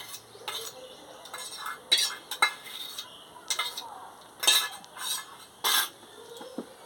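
A spoon scraping and stirring mustard paste in a pan gives soft, irregular scrapes and clinks at close range over a quiet background, with a faint low sizzle.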